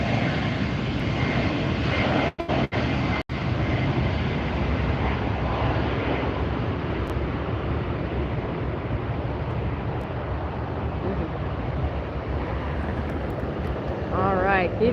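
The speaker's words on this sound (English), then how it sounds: "A double Alaska. Arrival. And a departure." Alaska Airlines airliner departing LAX, a steady broad roar of engines that holds throughout, loud and fairly close, with a few brief dropouts near the start and a short warbling whine at the end.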